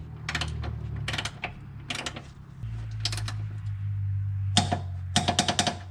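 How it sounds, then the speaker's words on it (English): A 17 mm torque wrench ratchets in quick bursts of clicks while a lower control arm nut on a Nissan 370Z is tightened to 65 foot-pounds, with a low mechanical hum underneath. "we're gonna go ahead and go from the bottom with the 17 mil torque wrench, with the 17 mil on the torque wrench, and we're gonna lock this in"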